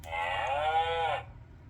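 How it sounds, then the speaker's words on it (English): A cow's moo from an interactive farm toy button, one clear drawn-out electronic low at moderate volume, ending cleanly after about a second with no one talking. "This is the sound cows make in the field."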